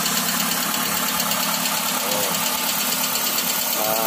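A 2010 Kia Rio engine idles after finally starting from a six-month standstill, a steady, loud, close mechanical running noise with a dirty engine's rough undertone and no speech.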